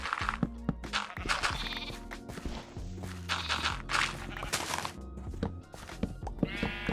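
Minecraft sheep bleat repeatedly in a hardcore survival world, mixed with blocky footstep sounds and other game noises. The bleats come in short bursts at moderate loudness and no one speaks.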